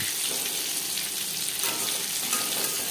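Chicken popcorn fries in oil over a medium flame, a steady, dense crackling sizzle that stays loud and even throughout with no talk.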